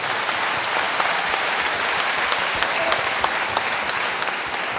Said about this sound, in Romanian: Aplaudați baptiște